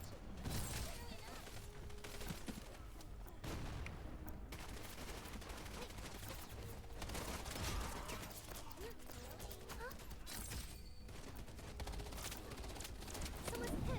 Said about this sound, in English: Friends are taking fire.